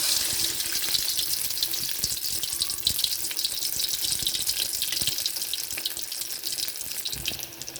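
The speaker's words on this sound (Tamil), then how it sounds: "மிதமான தீயிலே பொரிச்சு எடுத்துக்கோங்க." Egg pakoda frying in hot oil over a medium flame, a steady bright sizzle and crackle that runs evenly and close throughout, with no talking.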